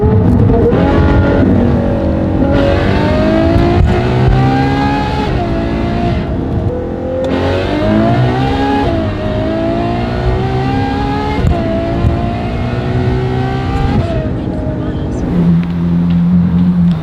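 Close, loud hypercar engine revving hard in sport mode in a neighborhood, pitch rising through gears then dropping and climbing again, continuous throaty roar.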